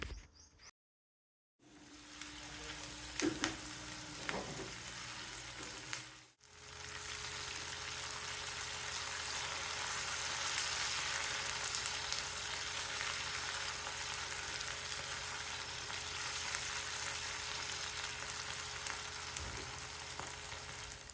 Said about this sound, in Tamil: இப்போ எல்லாத்தையும் சேர்த்து நல்லா வதக்கணும்